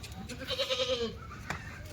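Kathiawadi dairy goats bleat in a pen, one wavering call close by rising over a low background murmur, followed by a sharp short noise.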